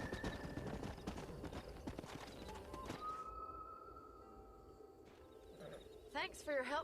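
Horse hooves clip-clop in a burst of rapid, dense beats in the video game Red Dead Redemption, fading into a steady tonal hum before sharper effects rise near the end.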